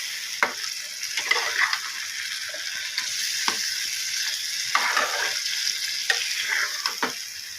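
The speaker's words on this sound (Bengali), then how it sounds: "নেড়ে মশলাটা মিশিয়ে নিয়ে পনিরটা দিয়ে দেবো।" Palak paneer cooking in a pan: spinach with paneer and spices sizzles steadily while a utensil stirs in repeated scraping strokes, close and fairly loud with no talk.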